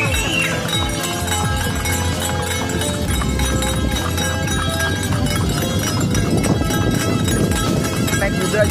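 Rental riding horses walk past on a busy outdoor street, steady hoof clip-clop mixed into loud crowd and traffic noise with people talking nearby.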